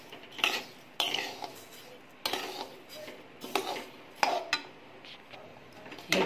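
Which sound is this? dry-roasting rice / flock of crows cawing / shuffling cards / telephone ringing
dry-roasting rice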